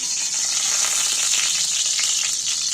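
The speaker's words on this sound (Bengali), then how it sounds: "এবার আমি মাংসটা তুলে দিচ্ছি তেলের মধ্যে" Chicken meat sizzling steadily in hot oil left from frying onions, a loud continuous close-up hiss with no talking.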